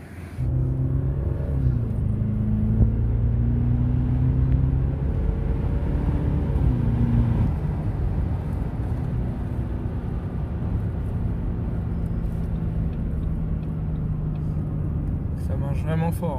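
An Audi 4.2 V8 TDI diesel engine pulls the car from inside the cabin, a deep droning hum rising in pitch through the rev range, then settling into a steady cruising rumble, with someone talking over it.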